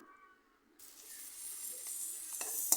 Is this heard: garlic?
yes